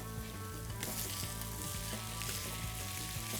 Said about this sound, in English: I'm gonna add the shrimp.